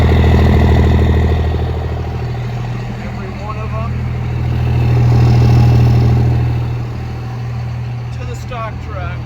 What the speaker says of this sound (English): Nice little exhaust.